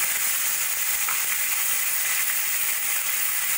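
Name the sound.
mung dal frying in oil with spices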